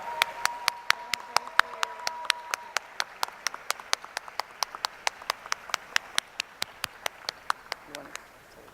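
Crisp, steady rhythmic clapping at an awards dinner, roughly three claps per second, loud and close, with a voice speaking faintly underneath early on.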